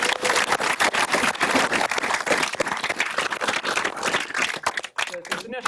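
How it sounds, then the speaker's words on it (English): Applause from the audience at a Tableau user group meetup, sustained dense clapping that holds strong for about five seconds before thinning into a few scattered claps and fading out. "let's give RJ and Keith another round of applause"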